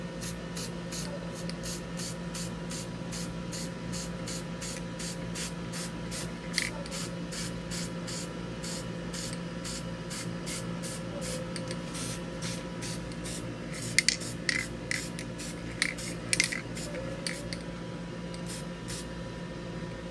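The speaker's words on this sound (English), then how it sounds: "I got the marsh ink, so let's spray it and see." Marsh ink sprayed from an aerosol can in repeated short hissing bursts, steady and close, with a few sharper clicks of the nozzle near the end.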